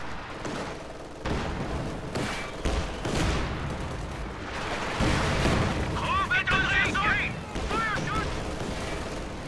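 Repeated heavy anti-tank gunshots and booming impacts crack through a dense video game battle din, with voices faintly underneath.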